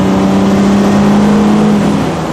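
A Mercedes 280SL engine revs up loudly on kickdown and holds a steady, droning roar, its pitch barely changing for a couple of seconds.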